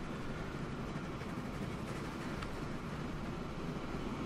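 A train rolls past in Transport Fever 2, a steady, even rumble that holds at a constant level throughout with no voices over it.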